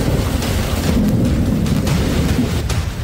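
Heavy downpour roars steadily over Surat streets as thunder rumbles through it, a dense loud hiss with deep booming swells and no voices.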